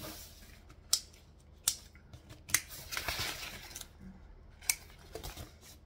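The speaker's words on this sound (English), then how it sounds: "You can actually use any scissors for waterproof canvas." Several crisp scissor snips cut through heavy waterproof canvas, spaced irregularly, close up and fairly quiet with no one talking.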